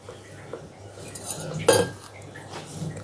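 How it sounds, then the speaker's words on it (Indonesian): Bread dough for fried bread being stirred by hand in a bowl, with soft scraping and a single sharper clink of a utensil against the bowl partway through, quiet and close. "Kita aduk-aduk dan kita tambahkan air dikit-dikit aja ya"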